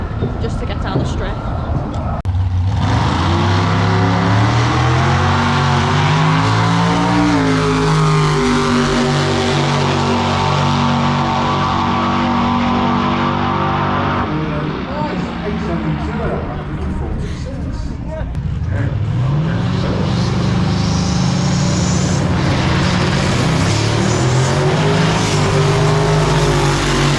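A 1016bhp Ecotune Audi RS3 drag races down the quarter-mile strip at Santa Pod, the engine revving hard through rising gear pulls, loud and close at first, then surging again after a gear change, with people talking throughout.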